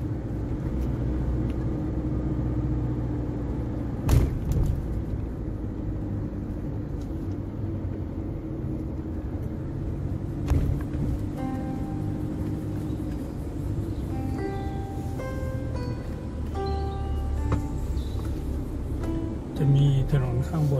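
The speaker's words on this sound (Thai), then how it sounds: "จะพาขี่รถรอบดู" A car drives a loop around a wide field road at Thung Makham Yong in Thailand, giving a steady low engine-and-tyre rumble throughout with a few brief bumps and faint tonal sounds toward the end.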